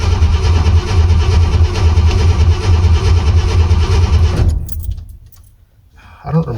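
1986 Ford F250 truck engine idles loud and close with a low steady rumble, then cuts off into near quiet, with a brief mechanical clatter at the end.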